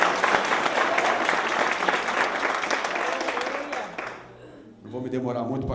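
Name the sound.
church congregation applause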